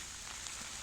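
Rain falls on garden plants outdoors as a steady, soft hiss of dense patter, faint and even throughout, with no voices.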